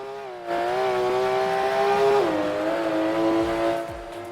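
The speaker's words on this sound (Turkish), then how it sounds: "O bu araba daha hızlı sanki." A car engine revving in Roblox Vehicle Legends during a race with a Bugatti and an Aston Martin, a loud sustained whine that climbs, holds, then drops in pitch, heard alone.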